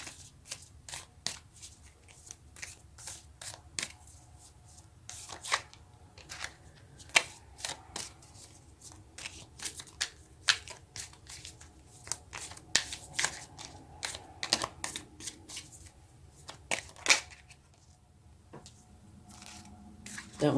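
Tarot cards are shuffled by hand in close, repeated riffling and slapping bursts that come irregularly, with a voice speaking softly now and then.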